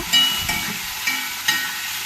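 Sprouted green gram tossed into a pan of fried shallots gives a steady bright frying hiss, with a few soft stirring knocks spaced through it and no talking.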